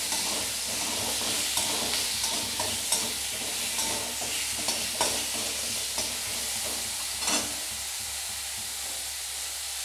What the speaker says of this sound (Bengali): এবার একটু ভেজে নেব।